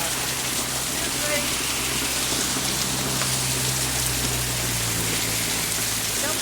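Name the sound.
hail storm in Florida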